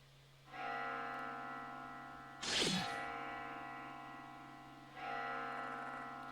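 Bell ringing in the horror game Spirit Hunter: Death Mark II, three resonant tolls with long sustained decaying hums, quiet and eerie, separated by a swooshing effect.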